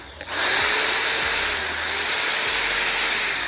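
A 600-watt corded hammer drill starts up after a click and runs continuously with a high whine and buzzing hum, close and steady.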